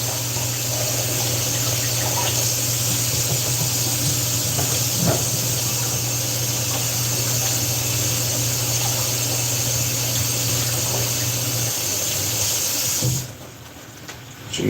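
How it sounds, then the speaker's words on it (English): Tap water runs steadily into a sink as hands are washed after handling raw meat, a continuous broad hiss that cuts off near the end, leaving a quieter room. "So you're washing your hands when you're handling raw meat."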